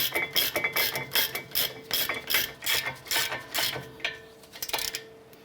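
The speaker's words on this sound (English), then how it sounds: "Now that we have those both caught, let's go ahead and tighten these down." Ratchet tightening the caliper bolts on a 2009-2015 Honda Pilot front brake, a steady run of close, rapid clicking strokes in repeated bursts with short pauses between, no talking.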